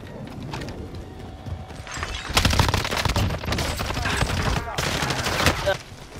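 Gunfire in a shooter video game, rapid sharp cracks in clustered bursts that grow louder midway and continue in a dense volley, with faint background voices.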